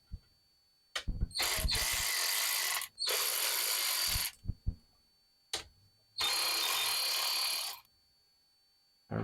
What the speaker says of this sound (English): So, see if we can get these screws out.